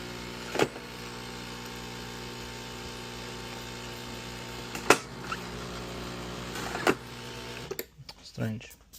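Steady humming drone from the water pump inside a Breville BES870XL espresso machine with an inlet water solenoid problem, running continuously. A few sharp clicks punctuate it before it cuts out into brief clattering near the end.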